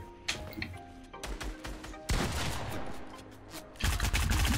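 Gunfire in Fortnite: bursts of rapid shots and sharp cracks come in several volleys, loud and close, with louder clusters toward the end.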